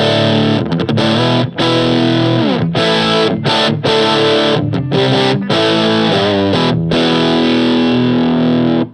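Electric guitar pushed through a TC Electronic Mojo Mojo overdrive pedal at a gritty, raunchy setting, with loud driven chords and riffs separated by sharp stops, heard alone and continuous.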